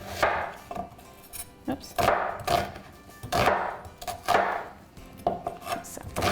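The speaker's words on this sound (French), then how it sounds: "L'oignon aussi, je vais hacher moyennement parce que je veux aussi que ça soit doré" A knife chops onion on a board in quick, uneven bursts of close, crisp strikes with short pauses between runs. A voice speaks briefly once.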